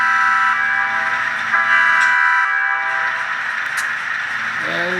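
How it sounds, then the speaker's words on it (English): Nathan K3LA air horn reproduced by the sound decoder of an HO scale M420 model locomotive, a loud, sustained multi-note chord blown for about five seconds with a short dip midway, heard on its own. "Then the beautiful Nathan K3LA air horn."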